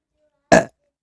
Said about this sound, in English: I heard the burp.